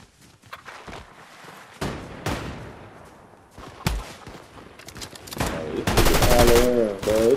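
Scattered shots in Fortnite, sharp single cracks and short bursts spread unevenly across the clip, ending in a dense, loud flurry of rapid fire close by.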